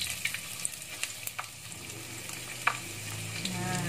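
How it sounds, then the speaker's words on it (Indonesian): Shallots sauté in a pan as the spice base for skipjack tuna rice, giving a steady close sizzle broken by light clicks and scrapes of stirring. "Yang pertama kita tumis itu adalah bawang merah dulu."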